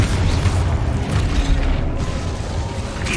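A Confringo spell fires in a video game, giving a dense, booming blast with crackling rumble that fills the whole moment, loud and continuous.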